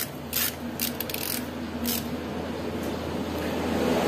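A ratchet wrench tightens a bolt on a Honda Supra motorcycle engine, clicking in short bursts of rapid ratcheting over a steady mechanical hum, close and fairly loud.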